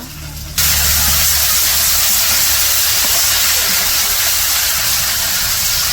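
Ginger garlic paste hits hot oil in a wok in a village kitchen, bursting into a loud, steady sizzling hiss that starts abruptly and holds close and strong throughout.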